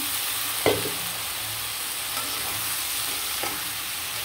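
Boiled vegetables with ginger, garlic and chili powder hit a hot pan and sizzle steadily, with a sharp crackling burst near the start and a softer stir scrape later, no voices over it.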